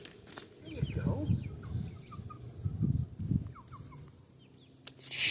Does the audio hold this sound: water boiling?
no